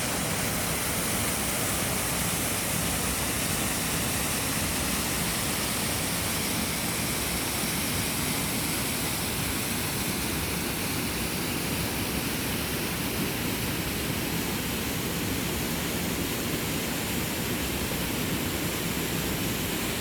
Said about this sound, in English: You get a nice view of the waterfall from this side.